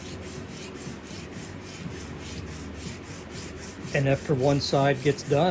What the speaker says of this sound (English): I've taped some 320 grit wet dry sandpaper down to the table saw table, and I'm just going to work these back and forth.